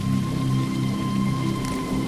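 Rain patters steadily in the video game Paradise, a continuous even wash with a low hum underneath and no talking.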